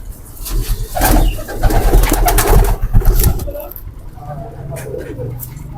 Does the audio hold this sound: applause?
no